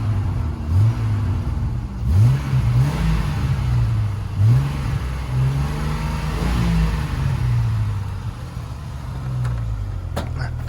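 A 1999 Jeep Cherokee with a Dynamax exhaust is revved repeatedly, each blip swelling and falling away over a steady low rumble, heard up close and fairly loud.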